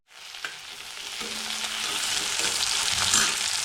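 Chopped onion frying in hot oil in a wok, a steady dense sizzle that swells louder over a few seconds, with occasional faint clinks of a spoon against the pan and no talking.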